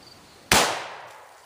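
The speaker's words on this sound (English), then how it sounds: "Let's move this back about 6 feet and shoot through the same entanglement again." A single sharp gunshot is fired through a brush entanglement outdoors, a loud, close crack with a short decaying tail after a quiet lead-in.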